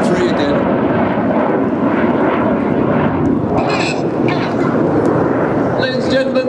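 Red Arrows display jets roar past at a Scottish air show, a loud continuous engine rush filling the whole stretch, with a commentator's voice running over it.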